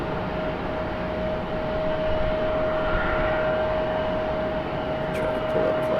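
An airliner flying near Raleigh Durham International Airport makes a steady, distant broadband engine roar with a low rumble that holds at an even level throughout.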